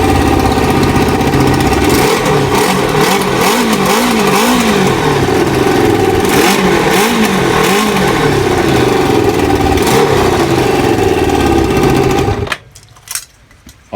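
A Kawasaki ZL600 Eliminator motorcycle engine runs loud and close with its choke in, idling with repeated rising-and-falling revs before cutting off abruptly near the end, leaving brief quiet clicks.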